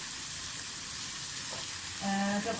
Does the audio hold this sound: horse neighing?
no